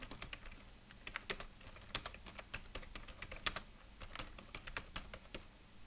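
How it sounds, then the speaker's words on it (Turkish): Typing on a computer keyboard while working in Microsoft Word, with quick, irregular bursts of soft key clicks close by and faint overall. "İşte yıla tıklayıp 2020 yazıyorum örneğin."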